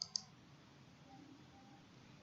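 Computer mouse clicked to save data, a single sharp click followed by a second quick click right at the start, close and faint against a quiet room hum, with no talking.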